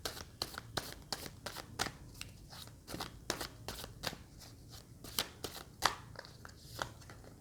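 Tarot cards being shuffled and drawn, a quick run of crisp card snaps and riffles, close up and fairly quiet, with no talk.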